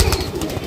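A Rampuri pigeon is handled and let go, giving a brief, close flutter of wings and soft rustling that lasts under a second.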